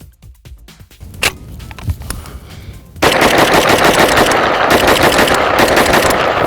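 A 15-round magazine is emptied in rapid fire, the first shots loud and separate, then a dense burst of echoing gunshots that lasts for several seconds.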